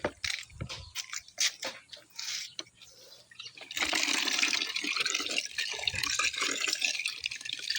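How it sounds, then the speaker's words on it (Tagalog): Water pumped from a hand-operated faucet in a rural yard in Camarines Sur, Bicol, running as a steady splashing stream that grows louder and fuller partway through, with earlier intermittent gushes and clanks. "Ito yung gripo."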